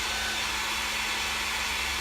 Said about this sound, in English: I could probably speed it up just a little bit with my blow dryer